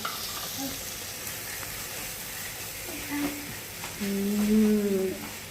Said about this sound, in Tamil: ஆட் பண்ணிவிட்டு நல்லா கலக்கி விட்டுருவோம்